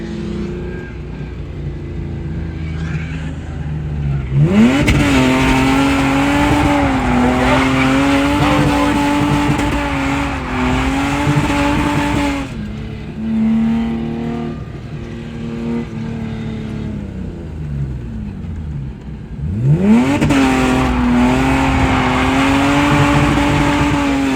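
A Lexus IS300 drifting loudly, engine revving hard with long tire squeals in repeated bursts, easing off between passes.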